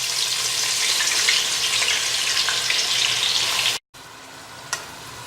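Sliced onions dropped into hot ghee for white mutton korma hiss loudly in a dense, close sizzle, which cuts out briefly before resuming more quietly with a small clink.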